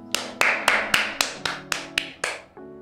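A run of eight sharp claps at a steady, slightly quickening pace, close and crisp, each with a short ringing tail, with no voices.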